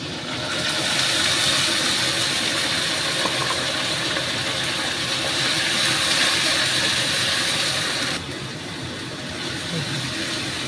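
A tomato, garlic and ginger paste hits a hot pan with a steady, loud broadband sizzle and hiss that runs for several seconds, then drops slightly in level near the end.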